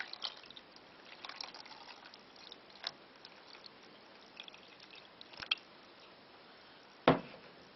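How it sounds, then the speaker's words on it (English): Water trickles and drips into a saucepan holding four sausages, quiet and close, with a sharper splash or clink near the end and no talk. "I'm just going to cover those with some water."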